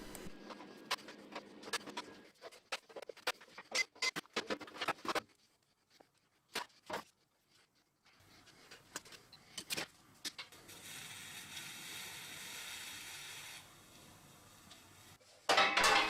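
A cheap stick welder is taken apart and repaired by hand, with close, intermittent metallic clicks, clatter and tool handling. Short quiet gaps separate the bursts, and a steadier low hum appears later.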